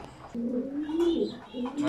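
Breeding pigeons coo in low, rolling phrases inside a breeding room, close and fairly loud, with some faint background noise.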